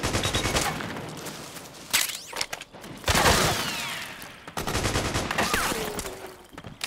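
Bursts of automatic gunfire rattle through a Metal Gear Solid 4 battle in a village, dense overlapping volleys with brief pauses and whizzing ricochets, loud and continuous across the scene.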